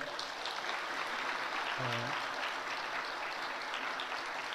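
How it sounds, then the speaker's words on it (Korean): A church congregation at a Sunday service applauds to welcome an elder, a steady, fairly distant wash of clapping with a brief voice partway through. "여러분들께 인사를 드릴 때 기쁜 마음으로 환영해 주시기를 바라고요. 박수로."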